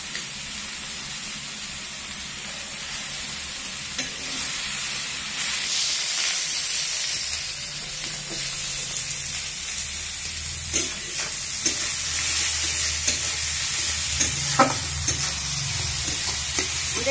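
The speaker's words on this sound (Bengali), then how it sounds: "পেঁয়াজটা ভেজে নেওয়া হচ্ছে" Onions fry in hot oil in a pan, giving a steady, close sizzle with bursts of stirring and scraping throughout and no voices.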